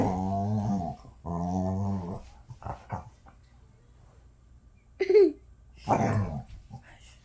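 A dog gives long, drawn-out growls in two close bursts, followed by softer grumbles, a sharp high whimper and a final throaty growl. The sounds are loud and close, with quiet pauses between them.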